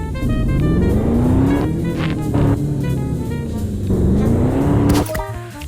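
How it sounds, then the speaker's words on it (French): A car engine in a racing video game hums and revs steadily, pitch sliding up and down with acceleration and a sharp burst near the end, with no talk over it. "On essaie quand même de bien conduire la voiture."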